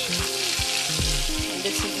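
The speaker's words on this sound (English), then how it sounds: "Frying up this fish" Fish sizzles and crackles steadily in hot oil for escovitch fish, a loud continuous hiss close by with occasional taps and scrapes of a utensil.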